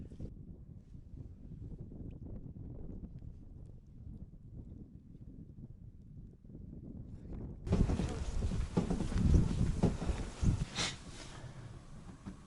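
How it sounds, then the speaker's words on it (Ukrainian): Strong winter wind on a frozen lake buffets the microphone in a continuous low roar, growing louder and harsher partway through with gusty bursts. "Вітер сильний."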